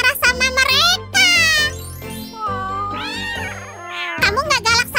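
Several kittens meow in high, rising and falling cries, close and loud, overlapping in quick bursts with a brief pause near the middle and a faint tinkle in the background.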